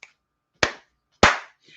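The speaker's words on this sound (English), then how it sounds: "Clap for the heavyweight champ." Two hands clap sharply, spaced apart, with a fainter clap at the start and end, close up and isolated against silence.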